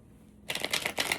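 Tarot cards are riffled and shuffled up close in quick, crisp fluttering bursts after a quiet moment.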